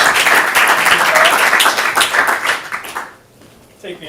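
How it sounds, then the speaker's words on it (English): A stand-up comedy audience claps and cheers for a comedian taking the stage, a loud burst of crowd applause that fades out after about three seconds, with a voice emerging at the end. "Give him a round of applause."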